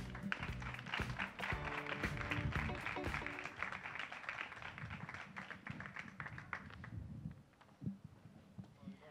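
Applause from a gala audience as group representatives take the stage, a dense crowd clapping loudly at first under murmuring voices and background music, then thinning into scattered claps and footsteps.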